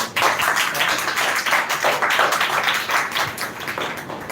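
Audience applause after a student speech at a spoken-English contest semi-final, dense steady clapping from many hands throughout, fairly loud and continuous with no voices.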